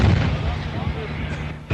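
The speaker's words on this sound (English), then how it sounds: "Again, there was savage artillery fire in the Bekaa Valley." Heavy artillery fire in the Bekaa Valley during wartime news footage, a loud, low rumbling barrage of booms filling the air, with a fresh blast at the end.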